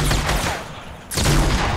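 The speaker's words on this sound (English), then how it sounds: "this shotgun's amazing" Rapid shotgun blasts from Fortnite fire close and loud, with two bursts separated by a brief gap.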